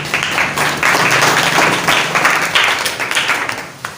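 An audience claps in uneven bursts to welcome a speaker, the applause close and moderately loud, swelling and easing over a few seconds before tapering off.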